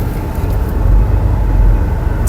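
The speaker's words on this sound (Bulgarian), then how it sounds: "Сега гледаме 5 литров Мустанг срещу може би, така като го гледам, или SRT или Hellcat." A 5-litre Ford Mustang drag races a Jeep SRT or Hellcat at an American muscle car festival drag day, a loud, continuous low engine rumble heard from a distance with no breaks.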